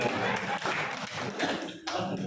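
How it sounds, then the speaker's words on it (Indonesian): A crowd claps in dense, continuous applause, filling the short stretch at an even, lively level. "tepuk tangan dulu Pak Gunawati."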